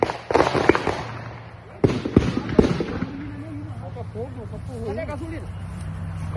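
Fireworks are fired toward a team hotel during a football fans' protest, with sharp bangs and crackling bursts early on, then a lingering rumble while people talk over the noise.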